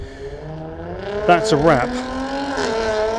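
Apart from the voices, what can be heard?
cars leaving a Jaguar car meet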